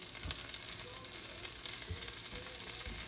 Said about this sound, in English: melt down my butter